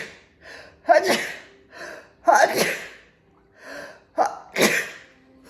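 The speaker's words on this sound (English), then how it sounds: "I have to sneeze." A person sneezes three times in a row, each sneeze a sharp, loud burst close by that follows a quick drawn-in gasp, with short pauses between them.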